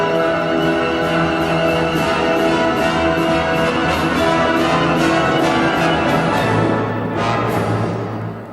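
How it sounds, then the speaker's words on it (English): The Sussex Symphony Orchestra plays its own arrangement of Jingle Bells, full and loud with sustained layered instruments and bright repeated bell-like strikes, fading slightly near the end. "the Sussex Symphony Orchestra will be playing their version of Jingle Bells"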